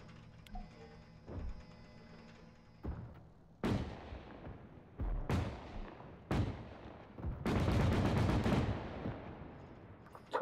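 Artillery fire in the military video game Arma 3: a string of heavy booms at irregular intervals, some with long rumbling tails and one sustained burst, distant to mid-range, with no talking.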